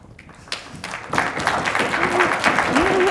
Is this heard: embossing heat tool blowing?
no